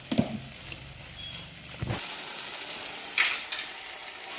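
Spice paste with cumin and turmeric frying in oil, a soft sizzle with stirring scrapes, a couple of sharper clatters early and a brief louder hiss later, fairly close.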